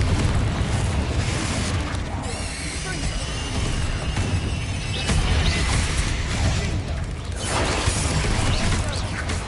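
In Hogwarts Legacy, the Confringo fire spell goes off in a string of booming explosions and crackling impacts that repeat through the stretch, mixed with creaking mechanical game effects.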